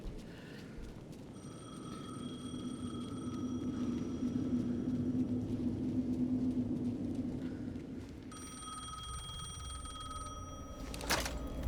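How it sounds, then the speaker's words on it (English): A telephone rings repeatedly in the video game Alan Wake 2, a bright electronic bell sounding in bursts over a low, murky ambient rumble, moderately faint, with a louder ring near the end. "Nice. Phone again."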